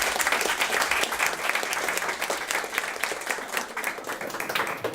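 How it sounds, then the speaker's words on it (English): Steady audience applause welcoming a speaker at a morning talk, a dense wash of clapping from a sizable crowd lasting the whole stretch, fairly even in loudness with no speech on top. "please join me in giving Vicky a round of applause"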